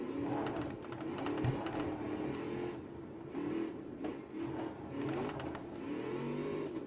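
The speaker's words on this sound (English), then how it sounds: "And listen to that engine." A monster truck engine in BeamNG at a Monster Jam arena event drones and revs steadily, its pitch wavering up and down as the throttle shifts, loud and sustained with no pauses.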